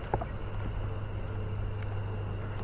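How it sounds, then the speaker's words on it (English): Round-tipped conehead katydids call at night in a suburban neighborhood, a faint steady high-pitched buzz that runs without pause under a low background drone. "The round tip cone heads are mostly what I hear now."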